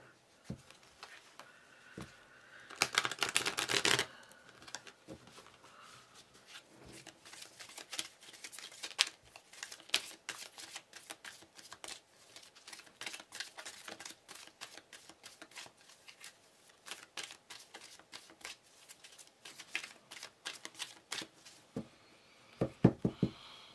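Tarot cards riffle in a quick, dense burst of shuffling, then quieter flicks, slides and taps follow as cards are handled and drawn, close and soft throughout.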